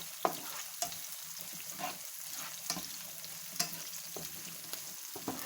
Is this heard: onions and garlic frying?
yes